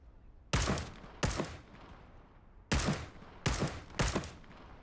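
Five loud, sharp gunshot bursts from a video game firefight crack out in uneven pairs and singles, each trailing off in a short echoing decay over a low ambient bed.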